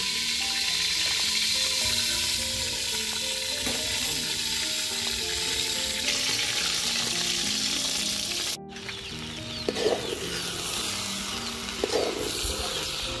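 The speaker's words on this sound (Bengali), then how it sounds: "চালটাকে খুব ভালোভাবে কষিয়ে নিব।" Rice sizzles steadily in hot oil with garam masala in a pot as it is fried for khichuri. The crackling is close and continuous, with a brief dropout and some stirring clatter near the end.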